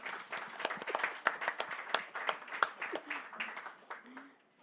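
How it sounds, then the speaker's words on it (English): A panel audience claps as a guest walks up from the back, a fairly close, uneven patter of individual claps that thins and fades toward the end, with a voice briefly audible. "This can be a long clap"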